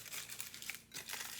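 Aluminum foil being crumpled and crunched by hand into a small robot figure, giving bursts of close, crackling crinkles in quick irregular rhythm with brief pauses.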